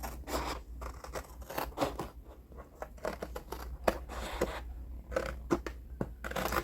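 Scissors snip through paper being trimmed for a handmade journal cover, with repeated close, crisp cuts arriving in irregular bursts over a faint low hum.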